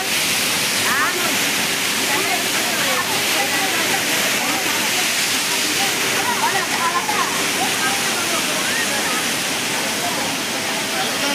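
Waterfall at Sanaghagara in Keonjhar, Odisha, a loud, continuous roaring rush of falling water that fills the scene throughout, with voices faintly heard beneath it.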